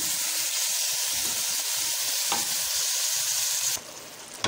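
Minced meat sizzling in a pan with ginger-garlic paste as it is stirred, a steady close hiss with soft scraping throughout, dropping away near the end.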